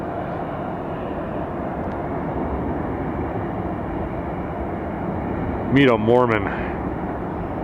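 A jet airliner departs from Atlanta airport, a steady broad rumbling roar that fills the clip at moderate distance; someone briefly speaks near the end over the engine noise.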